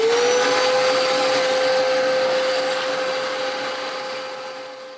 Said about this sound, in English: we got our shop vac in hand and we're gonna clean all that up now